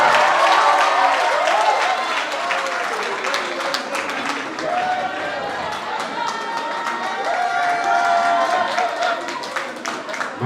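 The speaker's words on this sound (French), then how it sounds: "Applaudissez pour elle encore une fois." Sustained applause from a festival audience after a rapped talk, dense clapping with a few cheers and murmured voices mixed in, steady throughout.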